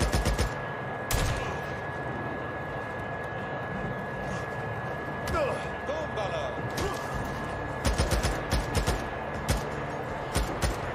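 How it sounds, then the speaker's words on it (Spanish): Gunfire in the video game Days Gone: sharp shots burst out in short clusters over a dense, busy game soundscape with a constant tone, loud and close, with scattered single cracks between the volleys. "Dice que el ruido de los disparos puede traer a invitados no deseados."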